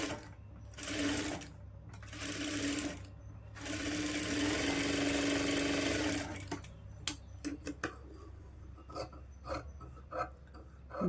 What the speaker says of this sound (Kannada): ಕರೆಕ್ಟಾಗಿ ನಾನು ನೆಕ್ನ ಸ್ಟಿಚ್ ಮಾಡ್ಕೊತೀನಿ